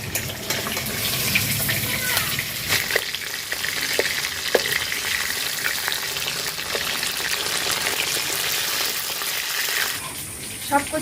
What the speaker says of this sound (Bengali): মাছটা এক পিঠ ভাজা হয়ে গেছে, এবার উল্টে দেব।